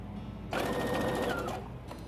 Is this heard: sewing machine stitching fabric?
yes